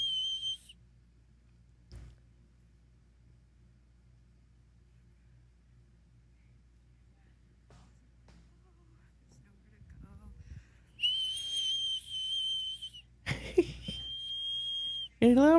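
Shrill whistle blasts: a brief one at the start, then longer piercing blows near the end, one sliding in pitch, separated by quiet.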